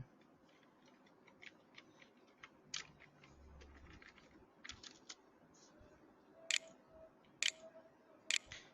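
Computer keyboard typing while entering an HTML title tag, quiet and close, with irregular light clicks and a few sharper key strikes near the end, no voices.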